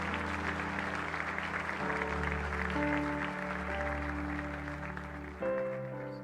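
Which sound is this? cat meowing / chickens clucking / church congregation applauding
church congregation applauding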